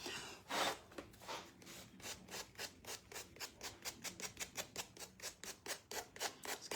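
A wooden Christmas ornament's edges are hand sanded in a quick run of regular, rasping strokes, close and steady, with no talking.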